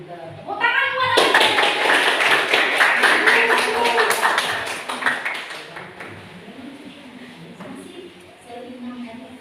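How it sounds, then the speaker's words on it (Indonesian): Students in a classroom clap together during a lesson, a burst of brisk clapping that swells, then thins and fades over several seconds, with voices speaking around it. "Tepuk tangan buat"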